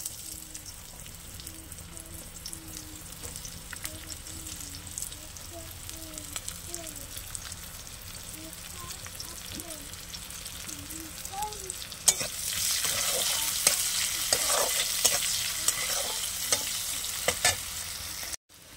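Onions fry in leftover fish-frying oil in a pan, starting as a soft sizzle under faint background birdsong, then swelling into louder, denser crackling and hissing as they are stirred.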